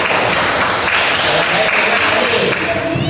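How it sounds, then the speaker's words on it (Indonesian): Classroom applause for a student group's finished work in a religious studies lesson, dense close clapping from many students that carries steadily for about three seconds, with faint voices mixed in. "kita beri tepuk tangan hasil karya kelompok satu."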